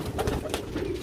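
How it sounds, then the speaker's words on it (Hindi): A purebred breeding-pair pigeon offered for sale coos softly in a short, steady murmur, close by with no talk over it. "ओरिजिनल जोड़ियां वाला कबूतर है"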